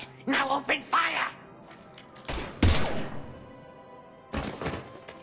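Video-game gunfire in Mass Effect 3 cracks out in a few loud bursts: short clustered shots early, a heavy thudding blast near the middle and another burst near the end, with voices talking between them.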